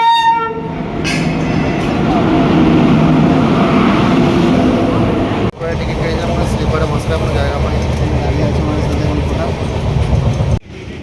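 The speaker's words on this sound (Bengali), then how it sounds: "আমাদের ট্রেন চলে এসেছে পূর্বা express one two three eight one Howrah new Delhi" A loud express train rumbles steadily through a station, with a horn tone sounding at the start and voices mixed into the continuous roar.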